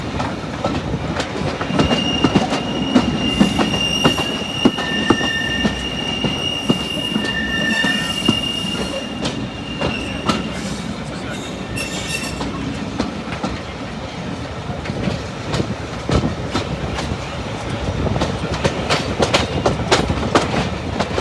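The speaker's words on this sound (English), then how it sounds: "This train had 57306 at the front." Diesel train headed by locomotive 57306 on the Severn Valley Railway near Kidderminster, running steadily on the rails with rumbling wheels, rhythmic clicks over rail joints and occasional high wheel squeals, heard close and continuous.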